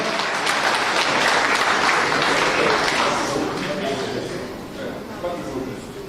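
A church congregation applauds loudly and steadily, the dense clapping holding strong before easing off slightly toward the end, with voices mixed in.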